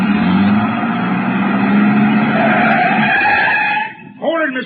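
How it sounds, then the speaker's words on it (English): A truck engine in an old radio drama turns over and pulls away, a loud, close, rough engine roar with a skidding whine that cuts off abruptly near the end, followed by a brief voice. "He turned over the engine and switched on the lights before I could get clear."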